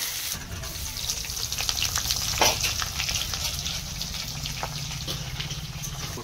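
Onions frying on a tawa for chicken biryani, a continuous soft crackling sizzle with occasional faint clinks, moderately quiet and steady throughout with no voices.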